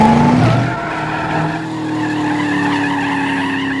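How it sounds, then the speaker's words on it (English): The General Lee, a drift car, slides with loud, sustained tire squeal and skidding, engine noise running underneath throughout. "To put a car into a slide, you're over-inducing your traction that the car has produced to force it into a slide."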